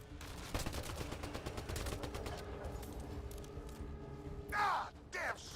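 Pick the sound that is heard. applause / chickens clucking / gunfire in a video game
gunfire in a video game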